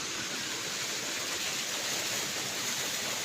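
Water runs steadily along an irrigation channel beside farmland, making an even, broadband rushing that stays at one level throughout. No one speaks over it.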